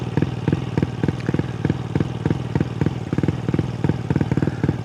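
A Honda Grom 149cc motorcycle engine chugs in a quick, regular pulsing rhythm while being ridden, close and moderately loud throughout.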